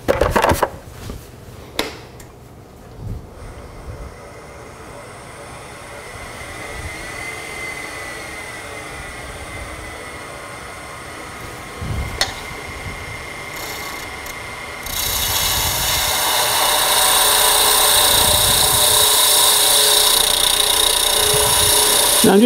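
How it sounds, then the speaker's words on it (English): A spindle gouge takes a skew-like shearing cut on a wood lathe turning a toy top, giving a steady, continuous rubbing hiss over the motor hum, with a few knocks early on and a louder, brighter rasp in the final stretch. "I'm just using the side that's the part of the wing there on the spindle gouge just to give me a skew-like shearing cut"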